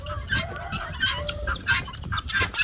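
Several chickens cluck and squawk continuously nearby in a farm coop, overlapping calls with a busy coop background.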